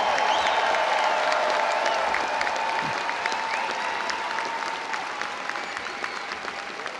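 A large crowd at a university spring commencement ceremony for doctoral and master's graduates breaks into sustained applause that fills a big hall and then slowly eases off, with scattered cheers mixed in.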